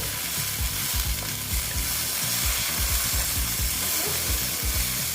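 Okra sizzling steadily as it fries in oil in a pan, a dense continuous crackle with occasional stirring scrapes, close and alone without any talk.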